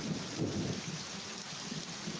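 Heavy rain pours down in a steady, dense downpour, a continuous loud hiss with low rumbling underneath and no voices.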